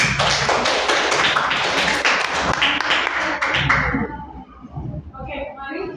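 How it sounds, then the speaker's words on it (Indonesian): An audience of a group teaching session claps loudly and densely in an indoor room, the rapid applause fading out after about four seconds as a few voices murmur. "mari kita sambut kelompok 3 dengan tepuk tangan"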